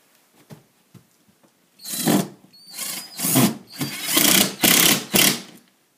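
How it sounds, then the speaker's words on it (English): Impact driver sending screws into drywall during a large-hole patch, heard as a series of loud, rattling bursts of a second or less each, several in quick succession after faint handling noises, with no talking. "I'm using an impact driver."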